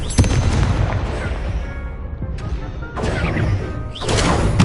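Confringo blasting spell explosions in the video game Hogwarts Legacy, a dense run of loud, close booms and crackling bursts with sharp new hits near the start, middle and end.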